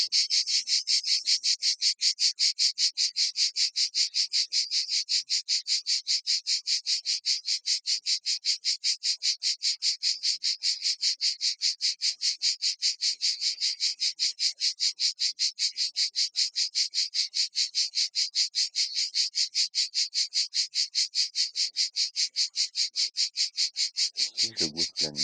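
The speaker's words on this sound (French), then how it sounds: "des cigales qui chantent ensemble" A dense, rhythmic buzzing of cicadas in Provence pulses steadily and loudly throughout, many insects droning together in a shrill, continuous chorus.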